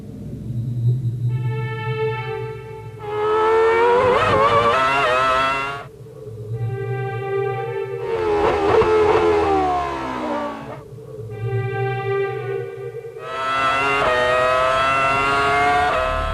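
Formula 1 cars from the 2001 season, Villeneuve and Ralf Schumacher battling for position, scream past in repeated loud passes. Each engine howl rises and falls in pitch as the cars approach and recede.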